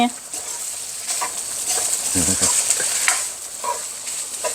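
Food being stir-fried in a pan, a steady crackling sizzle with scraping stirs, heard close alongside faint background voices.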